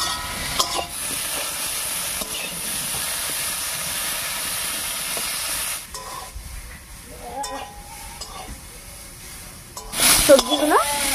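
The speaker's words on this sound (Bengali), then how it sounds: "সবজিগুলো আলাদা আলাদাভাবে তেলের মধ্যে ভেজে নিতে পারেন" Mixed vegetables fry in oil with a loud, steady hiss that drops away midway, followed by scattered stirring scrapes and a brief louder clatter near the end, with a voice talking over parts.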